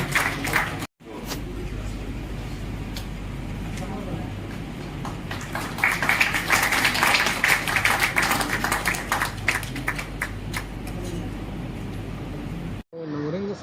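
An audience at a literary conference felicitation gives a burst of applause, with dense clapping rising in the middle and tapering off, heard over room noise and some talk.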